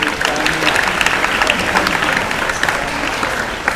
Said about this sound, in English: So let's clap for them, everyone.